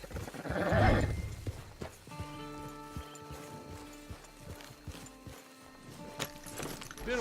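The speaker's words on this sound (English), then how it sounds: "It's your horse." Horse hooves clip-clop at a walking pace in the Red Dead Online video game, moderately near, with a brief louder rustle at the start and soft tonal game ambience underneath.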